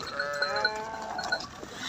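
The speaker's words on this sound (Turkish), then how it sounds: "kuzular da var" Breeding lambs at a village livestock farm bleating, several overlapping wavering cries close by, with a faint tinkle like a small bell in the background.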